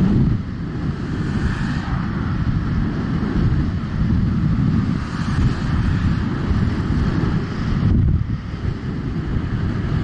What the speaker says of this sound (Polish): Duży wiatr